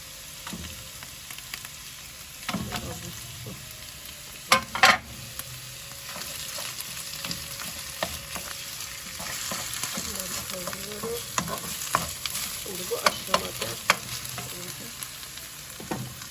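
Tomato paste and tomatoes, with peppers already in the pan for karnıyarık, fry and get stirred, a quiet bubbling sizzle punctuated by spoon knocks and scrapes, a couple of louder clatters early on.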